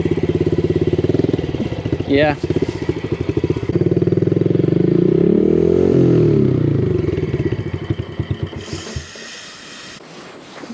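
Dirt bike engine running close by with a rapid, loud mechanical putter, briefly blipped and revving higher mid-way before the idle falters and dies out near the end, with a short spoken word heard over it.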